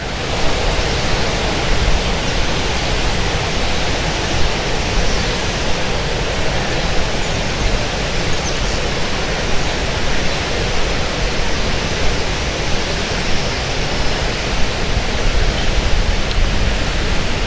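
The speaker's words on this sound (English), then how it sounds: "You can see the spring again off in the background where the water is bubbling through the rocks there." Spring water at Maramec Spring bubbles and rushes through rocks, a steady, dense wash of noise that holds constant throughout with no voices.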